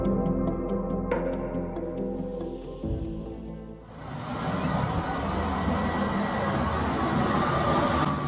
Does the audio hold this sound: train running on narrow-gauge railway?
yes